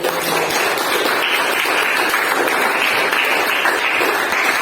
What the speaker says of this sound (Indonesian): Beri tepuk tangan untuk kelompok mawar.